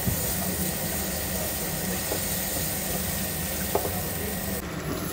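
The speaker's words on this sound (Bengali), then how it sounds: "ডিমটা দিয়ে দিয়েছি, ডিমটা দিয়ে মশলাটা একটু কষছে" An egg fries with spices in a pan, a continuous close hiss of sizzling oil that stays steady throughout, with a faint clink or two and no talking.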